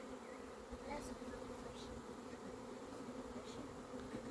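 A honey bee swarm hums in a dense, continuous drone, steady and fairly close, with individual bees faintly buzzing past over the constant background.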